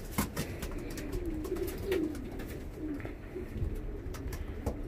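Pigeons in a breeder's loft coo softly and repeatedly, low rolling calls close by, with rustling and scattered thumps of birds moving about.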